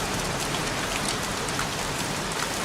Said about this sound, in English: Goddamn rain.